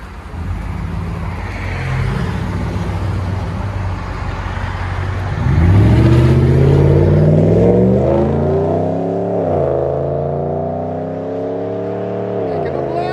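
A Ram 1500 with the 5.7L Hemi V8 and Flowmaster Outlaw exhaust idles with a deep rumble, then revs hard several times, the loud, throaty roar climbing and falling close by.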